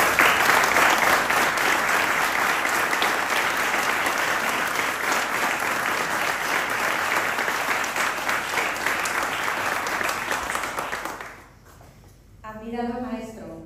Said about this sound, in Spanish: vamos a darle un gran aplauso